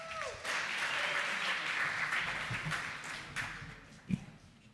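A hackathon closing ceremony audience at ETHGlobal New York applauds, a dense, steady wash of many hands clapping at a moderate distance, sustained for several seconds before starting to thin, with a brief thump near the end.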